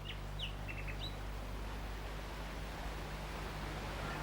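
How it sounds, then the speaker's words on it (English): A nightingale sings in a wood, giving a few faint, high chirps in quick succession at the start, then fading under a steady low hum and hiss. "Do you hear the nightingale singing in the wood?"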